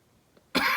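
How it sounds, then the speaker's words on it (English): A single abrupt cough breaks a quiet moment, sharp at its onset and then carrying on as a harsh, breathy burst close to the listener. "have that weird cough right now."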